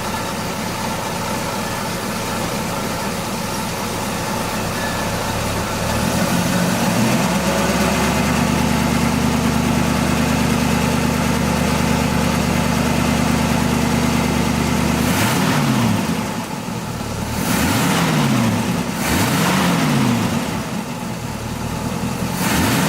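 A 1967 Chevrolet Camaro RS SS350 convertible V8 fires up after a short crank, settling into a loud, steady idle with a deep rumble, followed by a few sharp throttle blips rising and falling near the end.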